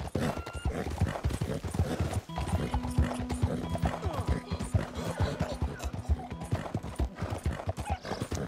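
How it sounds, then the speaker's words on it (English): Horse hooves clip-clop in a steady rhythm in Red Dead Redemption 2, with an occasional neigh and whinny over faint background game ambience. "how does Buell compare to the elite horse?"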